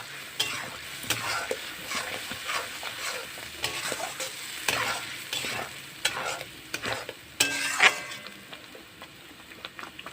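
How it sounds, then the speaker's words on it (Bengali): Masala spice paste fries and is stirred in a pan for aloo dum, with steady sizzling and repeated scraping strokes of a spoon, close and fairly loud, with no voices. "মশলাটাকে ভালো করে ভেজে নিবি"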